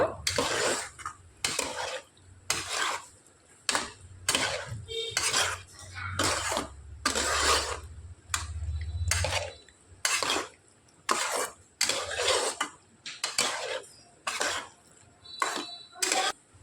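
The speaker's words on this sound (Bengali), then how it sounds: "নাড়াচাড়া করে খুব সুন্দর করে মিশিয়ে নেব" A spoon repeatedly scrapes and clatters against a pan while a spiced snack mixture with tomato sauce and Maggi masala is stirred and mixed, sharp rhythmic bursts of about two per second, close and loud.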